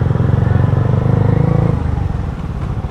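A loud, steady Bajaj Dominar 400 motorcycle engine with a replica exhaust rumbling close by, its deep exhaust note chugging continuously and easing slightly toward the end.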